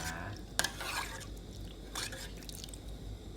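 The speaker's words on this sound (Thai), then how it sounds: "แล้วเราต้องหมั่นหมั่นคนนะคะอย่าให้กะทิแตกมันนะคะ" A spoon stirs a pot of coconut milk soup as it comes to a boil, with faint scraping and a couple of light metallic clinks against the pot, quiet and close.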